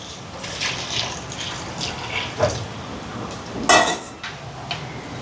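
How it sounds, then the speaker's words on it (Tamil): Water runs and splashes into a metal pot of washed lentils, with a few clinks of cookware, moderately close in a quiet kitchen. "பருப்பு கழுவியாச்சு வரேன் தண்ணி சேர்க்குறேன் கொஞ்சமாக"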